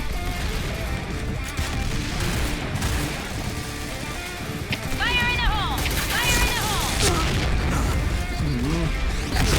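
Gunfire in the online shooter Point Blank: bursts of shots and booming hits scattered through the clip, under a player's talk and game music.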